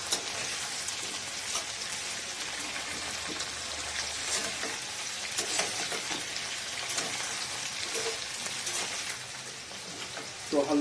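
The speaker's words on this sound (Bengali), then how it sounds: "হালকা গোল্ডেন করে ভেজে নেব।" Ingredient frying in oil until light golden for a winter vegetable khichdi, a soft, crackly patter of bubbling oil throughout, fairly quiet with scattered spoon clinks and a brief louder knock at the end.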